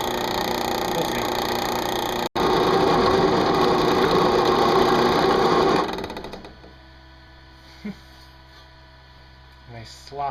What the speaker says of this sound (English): This is a normal 1 inch hole saw, and it should cut a hole a little bit bigger than 1 inch.